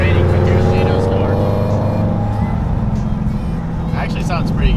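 Someone's supercharged Mustang GT engine rumbles close by on a rainy day, a steady deep idle that eases slightly, with rain and light background noise and a voice briefly at the end.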